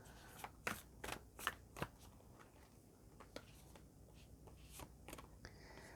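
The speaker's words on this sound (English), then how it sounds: "Let's give these a shuffle." Tarot cards being shuffled, several quick crisp riffles and flicks in the first two seconds followed by softer sparse card taps, faint and close in a quiet room.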